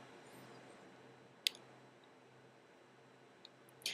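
Computer mouse clicks, a single sharp click, then a faint tick and another click near the end, quiet and isolated over a low steady room hum.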